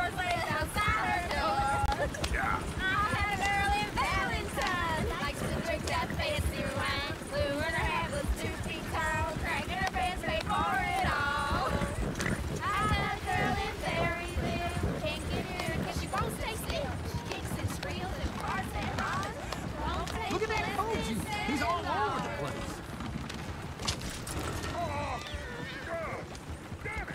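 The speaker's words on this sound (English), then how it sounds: "Damn horses." Horses galloping in Red Dead Redemption 2, a continuous rapid clip-clop of hooves with occasional snorts, steady and moderately close while characters talk over it.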